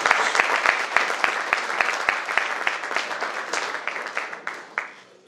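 An audience at a congress honoring Monseñor Alfonso Uribe Jaramillo applauds in welcome, loud sustained clapping with a few sharp distinct claps standing out, dying away at the end.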